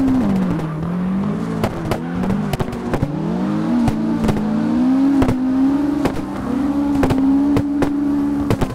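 A 600+ hp Silvia S2000 drift car on a mountain touge road, its exhaust droning and revving loudly up and down in a wavering engine note, with sharp clicks and pops through the run.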